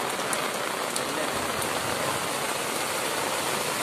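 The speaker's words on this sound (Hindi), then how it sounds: "और भाई बारिश आ रही है यार" Heavy rain pours in a street during days of continuous downpour, a dense steady hiss of drops on surfaces, loud and close, with no talking.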